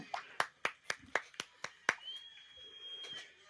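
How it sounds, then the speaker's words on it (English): Hulk Hogan claps slowly, about eight sharp, distinct handclaps in an even rhythm close by, then a thin tone and quiet background. "The Hulkster's applauding him"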